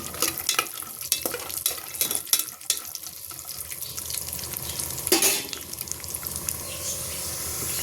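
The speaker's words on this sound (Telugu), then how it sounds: "జీడిపప్పు, బాదం పప్పు ఫ్రై చేసుకుందాం నెయ్యిలో." Cashews and almonds fry in hot ghee for carrot beetroot halwa, a close crackling sizzle with clinks and scraping as they are stirred, continuing with no talk.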